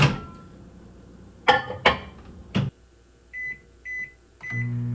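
A microwave oven in a kitchen: a few door and handling clunks, then three short electronic beeps followed by the low steady hum of the oven starting to run, close and clear with no talk.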